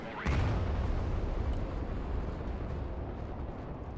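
Rocket artillery firing in the modern warfare RTS game Broken Arrow, a sudden whooshing launch followed by a heavy, rumbling roar that lingers and slowly fades.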